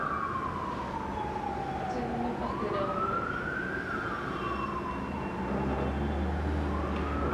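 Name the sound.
siren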